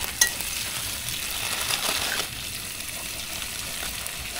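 Eggs frying in a pan at a campsite, a steady close sizzle with a small clatter near the start and brief stirring scrapes, no talk.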